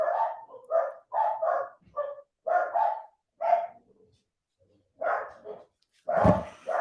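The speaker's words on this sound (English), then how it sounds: "See the dogs going nuts." Several dogs barking excitedly during a soccer broadcast, a run of loud, close yaps and barks in quick bursts with short pauses, rising to a louder bark at the end.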